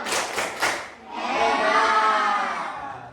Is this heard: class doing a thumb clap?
yes